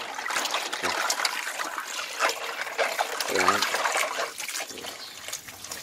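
Black stones caked with mud are rinsed in water, giving a continuous close trickle and splash with scattered clicks of stone, while a voice speaks now and then.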